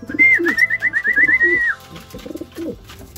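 Racing pigeons at a derby loft cooing in a steady rhythmic run of soft calls close by, with a high whistling tone overhead for over a second, followed by more scattered coos and rustling.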